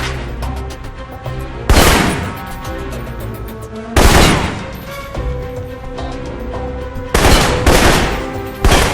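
Assault rifle fire in Alpha Protocol, loud bursts of rapid close shots spaced a couple of seconds apart, each burst a dense string of cracks over a steady background hum.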